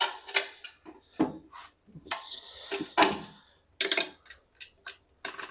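A screw with a penny washer is driven in while fixing a bathroom basin, giving a series of short metallic clicks and scrapes in close, uneven bursts with gaps between them.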